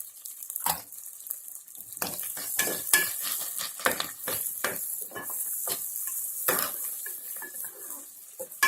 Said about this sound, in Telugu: ఈ విధంగా ఆనియన్స్ మనం లైట్ గోల్డెన్ కలర్ వచ్చే వరకు వేయించుకొని